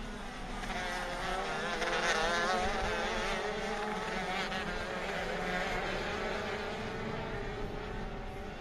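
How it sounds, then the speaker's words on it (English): Racing karts in a ROK Cup Championship race at the Sonoma Raceway kart track, their high-pitched engines buzzing together in a steady, loud, continuous drone as the pack runs past. "So Ryan has about a 2-kart lead right now over teammate Kevin Woods"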